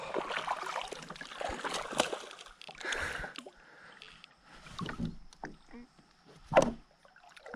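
Kayak moving along a small river, with intermittent paddle sloshes and water splashes close by, a sharper splash near the end, and people talking over the water.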